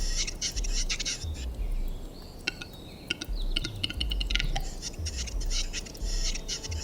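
A male grouse sings its courtship song in the wild Bulgarian forest, a string of sharp clicks and chirps in repeated bursts, fairly close, over quiet background hiss, with no voices.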